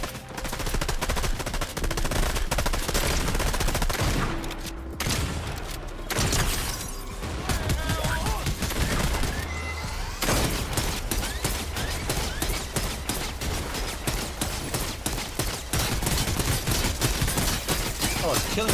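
Gunfire rattles almost nonstop in Fortnite, including blasts from a blue shotgun, loud and close, with dense rapid shots in bursts and a brief break near the middle.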